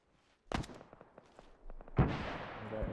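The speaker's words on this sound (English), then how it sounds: "Mortars! Get down." Mortar rounds striking in the video game ArmA 3, set in the Soviet-Afghan War: a sharp crack followed by scattered thumps and rattles, then a heavier blast that trails into rumbling debris, moderately distant.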